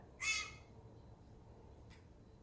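A pet rescue bird lets out one sharp, harsh squawk, then a shorter, fainter call a moment later, in a quiet indoor room.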